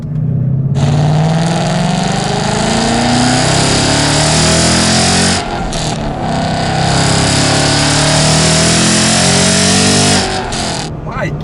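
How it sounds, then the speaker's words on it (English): A supercharged 2015 Ford Mustang GT engine revs loudly and up close, its whine and exhaust roar climbing and falling through several throttle blips, with a short dip midway before surging again. "Oh, you just hear that supercharger though."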